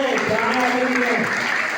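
Audience applause welcoming an honoree at a DAV school ceremony in Nerul, a steady broadband clatter of many hands running the whole stretch, with a voice speaking over it partway through.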